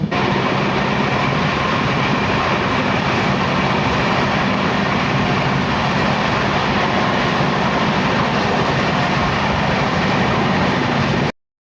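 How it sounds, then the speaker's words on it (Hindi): The Black Diamond Express pulls out of Durgapur station with a loud, continuous rumble of train wagons and rattling wheels on the rails. The noise is close and steady until it cuts off abruptly, and no one talks. "दुर्गापुर से डिपार्चर हो रही है अपनी ट्रेन का"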